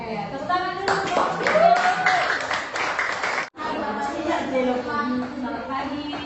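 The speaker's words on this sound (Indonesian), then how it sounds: "Oke, tepuk tangan dulu." Students clapping together in a classroom, a burst of mid-distance applause that breaks off briefly before resuming, with a voice speaking over it.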